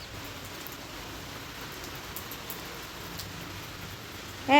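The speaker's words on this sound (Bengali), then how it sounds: "এখনও বৃষ্টি পড়ছে" Continuous rain falls steadily on a rooftop during the monsoon, a soft even hiss with no breaks, holding at a constant level before a brief louder sound at the very end.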